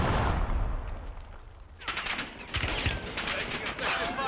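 Gunfire in a military shooter video game: rapid automatic bursts of sharp, loud shots after a short lull, with a voice speaking during the exchange.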